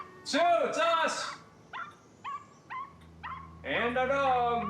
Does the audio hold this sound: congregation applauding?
no